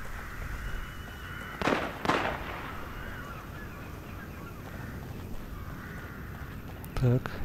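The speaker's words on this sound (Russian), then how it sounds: "Так, выстрелы." Two sharp gunshots close together in the horror video game The Evil Within, set against a murky ambient drone, followed by a metallic clank and another abrupt hit near the end.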